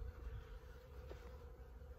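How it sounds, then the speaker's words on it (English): A swarm of little bees buzzes in a continuous faint drone, steady and distant, with no talking. "It's a bunch of like little bees."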